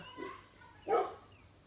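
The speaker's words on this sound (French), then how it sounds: "c'est ma chienne qui aboie" A female dog barks once at children passing outside a rural home, a single fairly faint bark after a softer yip, heard at a distance indoors.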